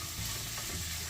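Onions are stirred and fry in oil in a pan for black sesame black chicken curry. A steady, close sizzle runs throughout with faint scraping of the stirring and no talk.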